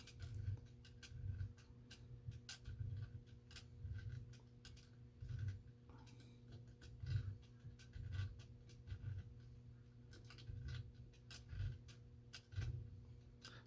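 A GE/Telechron Electrolarm Model 700 clock mechanism ticking in a regular, evenly spaced rhythm of soft clicks close up, about one per second, over a low steady hum, with no talking.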